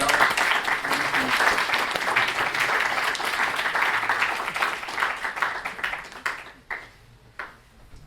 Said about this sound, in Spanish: quisiera entonces que con un aplauso le diéramos la bienvenida a nuestros invitados